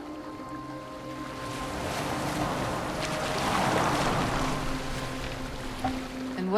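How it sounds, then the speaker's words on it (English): Boat steered across open water in the Assassin's Creed Valhalla video game, with a continuous wash of waves and wind swelling and easing, moderately loud, under faint tonal background music, no talking. "Are you well enough to steer this boat?"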